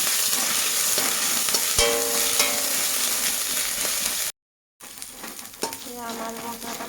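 A paste of ground cumin, ginger, garlic and turmeric fries in a pan with a steady, close sizzle, broken by scraping stirs and one brief dropout before the crackling resumes.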